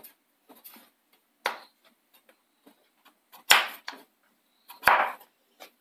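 Tapioca being sliced with a knife into chips, a handful of sparse crisp cutting strokes, the last two louder and sharper, close-up with quiet pauses between and no voices.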